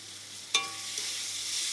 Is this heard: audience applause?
no